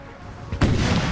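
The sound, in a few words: artillery howitzer fire in video game Napoleon Total War 3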